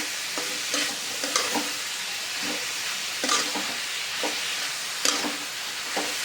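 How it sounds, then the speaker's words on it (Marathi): Grated coconut filling for ukadiche modak being stirred in a pan: a string of scraping spoon strokes comes every second or so over a soft, steady sizzle, close and moderately loud, with no talking. "मिश्रण थोडंसं हलवून घेऊ"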